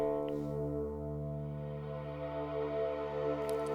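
Supermassive reverb chained into a Shimmer reverb in a VCV Rack patch, with warp and delay turned up, gives a sustained, dense ambient wash of layered harmonic tones that stay steady and fairly loud throughout, with a faint high shimmer near the end.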